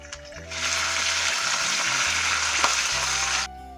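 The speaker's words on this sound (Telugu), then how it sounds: "ఇవన్నీ ఫ్రై అయ్యాక కరివేపాకు కూడా వేసుకోవాలండి." Curry leaves and green chillies frying in hot oil for a potato curry, a steady loud crackling sizzle that starts abruptly and cuts off near the end, close with no talk.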